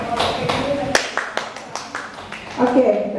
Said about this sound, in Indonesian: tepuk tangan untuk Ustazah